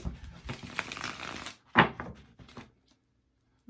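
A deck of tarot cards is shuffled by hand at close range: a dense riffling rustle for about a second and a half, a sharp snap as the cards settle, a brief final flutter, then quiet.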